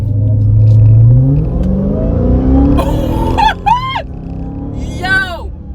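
A supercharged 2023 Dodge Charger Hellcat Widebody engine climbs in pitch as it accelerates hard, then sharp rising revs and whoops follow through quick gear changes, loud and close; a voice calls out briefly.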